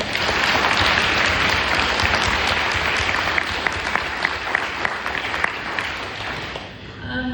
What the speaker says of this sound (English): If we could have a round of applause for everyone that spoke.